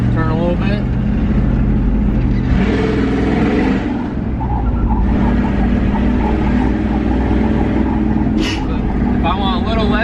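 A pickup truck's engine revs hard through a tight three-wheel turn, a loud close roar rising and falling with throttle while someone talks over it.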